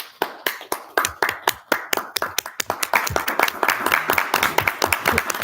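Audience at a debate claps, starting with a few slow, sharp, separate hand claps that quickly build into fast, dense applause from many people nearby.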